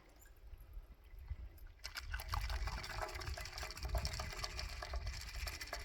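A Rie Pie dessert cocktail made with Bailey's is poured into a glass, a steady liquid splashing and gushing that starts after a quiet moment and carries on close up.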